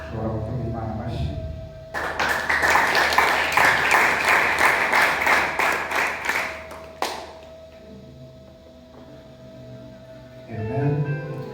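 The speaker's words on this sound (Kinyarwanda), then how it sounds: "Ushobora gukora Imana amashyi." A church congregation claps for God during a Kampala Luwero service, a dense burst of applause lasting about five seconds, loud and close, then fading back into room murmur, with a voice speaking briefly at the end.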